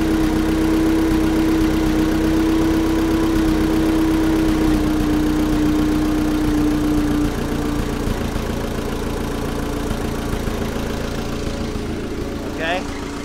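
A vintage Allis Chalmers forklift engine idles steadily nearby with a low, even rumble and a sustained tone, running on without stalling; a brief metallic clink comes near the end.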